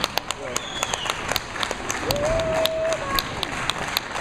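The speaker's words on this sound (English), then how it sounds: "Nice round of applause for Daniel Hansen." Crowd applause at a junior bowling tournament, a continuous spread of claps under a steady background wash, with a few sharper nearby claps and a brief tonal squeal partway through.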